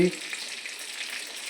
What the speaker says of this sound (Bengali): তেজপাতা একটা ভেজে নিচ্ছি।